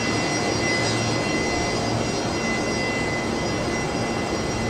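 An Aircalin A320neo jet sits after pushback at Brisbane airport, its engines giving a steady, fairly loud whine and rumble with a constant high tone and no change in pitch; no voices.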